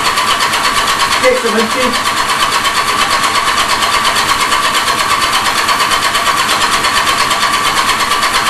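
A kick-start motorcycle engine in a workshop fires up and keeps running, a steady mid-pitched mechanical drone that fills the clip, with someone talking briefly over it.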